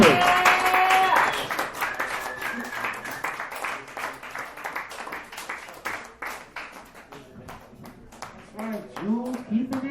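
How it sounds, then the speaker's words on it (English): Comedy show audience in a dive bar breaking into applause and cheers, a burst of clapping that follows a shouting voice, swells, then thins out as a few people keep clapping near the end. "Another round of applause for Julie Renneretti."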